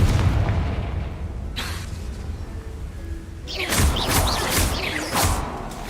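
A Confringo spell explodes in the game Hogwarts Legacy, with a deep boom, then whooshing bursts and crashing blasts in rapid succession, loud and close.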